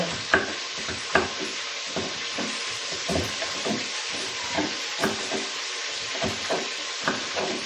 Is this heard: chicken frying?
yes